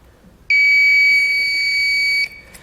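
A circuit tester beeps while checking trailer wiring on a towed vehicle, giving a single loud, steady, high electronic tone that holds for close to two seconds before cutting off, heard alone in a quiet setting.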